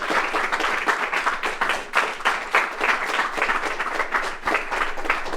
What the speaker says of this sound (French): Je les applaudis bien fort.